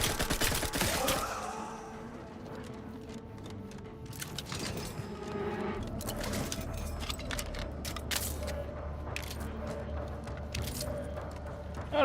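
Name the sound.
gunfire in the video game Outer Worlds 2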